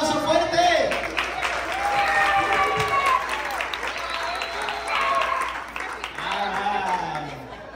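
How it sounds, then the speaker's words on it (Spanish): A church congregation applauds loudly, a dense sustained round of clapping with voices and cheers mixed in, while a person talks over the top near the mic. "un aplauso fuerte"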